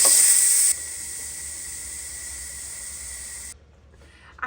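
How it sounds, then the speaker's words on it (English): A Ninja Foodi pressure release valve lets out a loud, steady rush of steam that drops a little in strength and then cuts off, leaving near silence and a faint click at the end. "so let's release the pressure"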